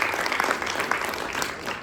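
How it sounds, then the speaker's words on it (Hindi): Theatre audience clapping to welcome actors before a stage play at a Jaipur venue, a dense steady round of applause filling the hall at moderate loudness. "तालियों की गड़गड़ाहट से स्वागत कीजिए हमारे कलाकारों का।"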